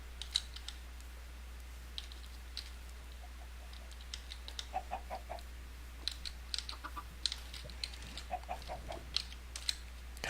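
Faint clucks from a chicken in the Minecraft modpack Solitary Craft sound in short, scattered bursts over a steady low hum, mixed with clicky taps, with no voices.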